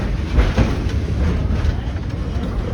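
Detroit & Lima Northern No.7 steam train rolls into a station, a steady loud rumble with clattering wheels heard from on board, continuous and close.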